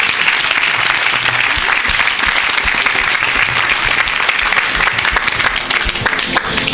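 A church congregation bursts into loud, sustained applause, a dense wash of clapping hands that stays strong and even from start to finish, close and enveloping.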